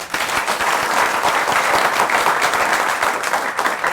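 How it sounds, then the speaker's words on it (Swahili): An audience bursts into dense, loud clapping that holds steady for several seconds, a close, continuous wash of many hands with no voice on top. "Wapi makofi yao?"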